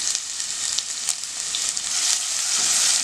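Onions frying in a pan until golden, a steady bright sizzle with small crackles and pops that builds slightly toward the end, close and continuous with no talk.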